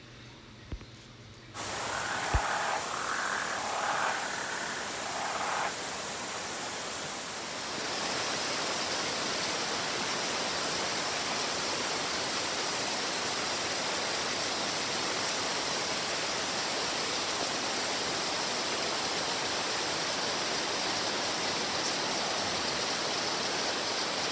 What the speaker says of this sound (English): speaking of frogs, we're going to pause and let you listen to them.